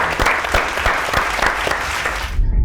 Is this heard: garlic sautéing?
no